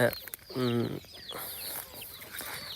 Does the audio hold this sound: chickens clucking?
yes